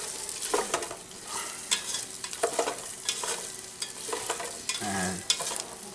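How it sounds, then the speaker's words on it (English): Onions sweating in a pan for bean soup, a soft low sizzle under intermittent scraping strokes of a spatula, fairly quiet and close. "We're just looking to get a good sweat on these onions so they'll start turning translucent."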